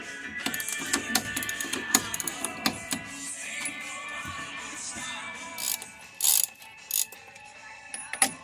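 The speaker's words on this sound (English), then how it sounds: "Taking the shock mounts off so I can move the spindle." Ratchet removing shock mounts on a front-wheel-drive Hornet race car, a quick series of clicking and ratcheting strokes with metallic taps and clanks, ending in a few sharper separate knocks.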